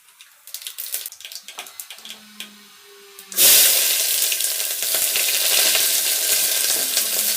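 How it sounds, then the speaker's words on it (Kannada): Mustard seeds hit hot oil for a village-style sambar and peanut tambuli, breaking into a loud, steady broadband sizzle that starts abruptly after a few quiet clinks and handling sounds, then crackles on continuously, close up, with no talking. "ಒಂದೆರಡು ಚಮಚ ಎಣ್ಣೆ ಎಣ್ಣೆ ಬಿಸಿ ಆಯಿತು ಸ್ವಲ್ಪ ಸಾಸಿವೆ"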